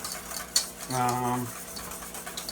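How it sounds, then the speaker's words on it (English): A sauce thickened with roux is stirred vigorously with a spatula in a vintage Revere Ware pan, giving a quiet scraping and a single sharp clink over a steady background hum, close by and without speech. "stirring it rigorously so that you don't get any lumps"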